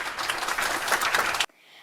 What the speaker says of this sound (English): Please give a warm welcome to Mr. Ritis by giving him a warm round of applause.